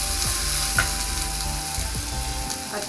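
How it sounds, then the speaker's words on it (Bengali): Ground cumin and coriander spices fry with a little water in a pan for chole, a steady close sizzle running throughout with a few soft stirring scrapes and no talking. "তাছাড়া আমি অল্প জল দিয়ে মশলাটাকে ভাজছি।"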